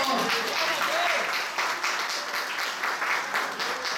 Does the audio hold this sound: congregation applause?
yes